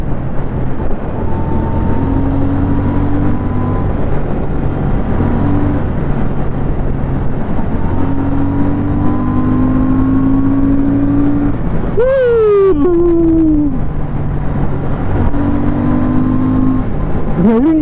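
A car drives steadily in third gear, its engine holding a continuous, moderately loud drone with tonal harmonics throughout; a brief whine or squeal rises around the middle before the engine note settles back.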